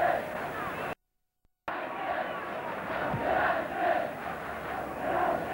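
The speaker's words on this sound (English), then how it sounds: "Crowd trying to lift Newcastle," Football crowd at a 1968 Newcastle match roaring and surging continuously, with swelling chants and a brief dropout near the start, loud and broad throughout.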